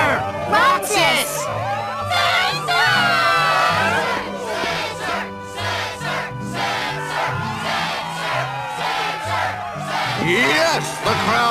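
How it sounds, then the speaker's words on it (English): A fired-up crowd roars at a Struggle match in Kingdom Hearts II, with loud sustained cheering and shouts over steady game music throughout. "Yes, the crowd is fired up"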